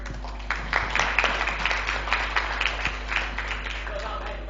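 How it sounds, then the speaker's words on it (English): Scattered applause from a seminar audience after a professor's talk, moderately faint and steady, with a low hum underneath. "Let's give another round of applause to Professor Hiro for his wonderful speech and presentation."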